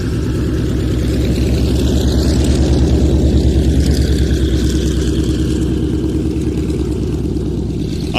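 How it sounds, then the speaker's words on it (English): Propeller aircraft of the Flying Bulls display team taxiing in at an airshow in Leszno, a steady loud droning piston-engine rumble with a pulsing beat, continuous and close throughout with no voices. "making quite a remarkable backdrop for the Flying Bulls aircraft as they taxi in"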